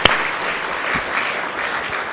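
A small audience applauds steadily, a close, continuous patter of clapping hands with no break across the moment.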